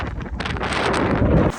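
Strong wind buffets the microphone in a loud, rumbling roar that swells and then briefly drops off near the end.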